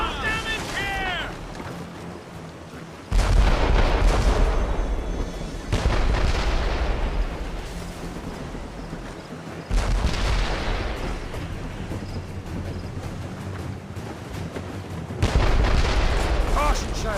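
A naval cannon broadside booms in Assassin's Creed Rogue, heavy volleys thundering out in several separate bursts amid sea battle noise, with shouted crew voices in between.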